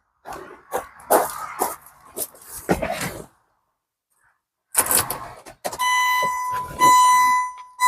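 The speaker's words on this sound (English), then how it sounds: "It's making good beeping noises." Voices talk briefly, then after a pause there are clicks and rustles, followed by a sustained electronic beep tone from the dashboard of a 2003 Land Rover Freelander with booster packs attached, steady and fairly loud.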